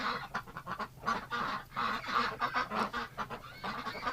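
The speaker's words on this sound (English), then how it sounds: "This little duck right here, she's so pretty with the white ring on her neck." A flock of ducks, one with a white neck ring, quack and honk continuously at close range in a busy, overlapping chorus in a winter pen.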